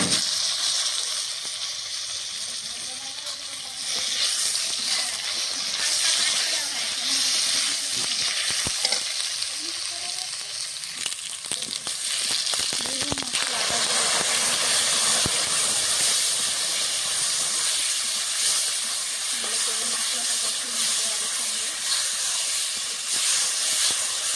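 Potatoes fried red in a pan sizzle steadily as a tomato is added for a Bangladeshi pomfret and potato curry, a continuous close hiss of hot oil with occasional stirring scrapes and spits throughout.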